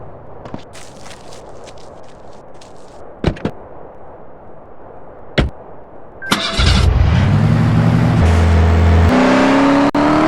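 A truck in the video game Live Russia starts up and drives off, its engine roaring and shifting pitch after a few sharp clicks and thumps over a quiet ambient bed.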